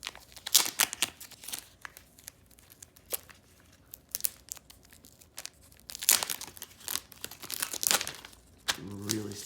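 Plastic wrapping crinkled and torn off a new Echo Show 5 during unboxing, in bursts of close, sharp crackles and rips separated by quieter pauses, with a brief voice near the end.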